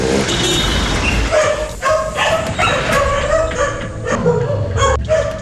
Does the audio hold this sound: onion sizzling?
no